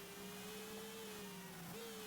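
Racing car engines in a racing manager video game whine steadily with a sustained high tonal drone that dips briefly before resuming, continuous and even in level with no talk over it.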